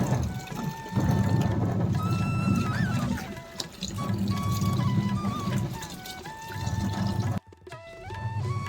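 Water rushing steadily into a washing machine after detergent is added, a low continuous wash of flow that pauses briefly near the end, with a melody playing over it.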